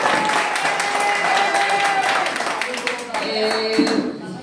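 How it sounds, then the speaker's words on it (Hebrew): Dense applause fills a room at a 1982 class reunion of Olamim school in Holon, a steady crowd clapping throughout with some voices mixed in underneath. "הגיע לה מחיאות כפיים"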